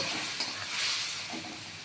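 Masala spice paste with green chillies fries in a pan, a loud, close sizzle and hiss that swells and eases slightly as it is stirred.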